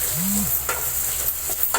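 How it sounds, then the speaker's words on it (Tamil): Sliced onions and curry leaves sautéing in a pan for roadside-style salna, a continuous close sizzle with a few scraping stirs of a spatula, no talking. "வெங்காயம் நல்லா வதங்கணுங்க."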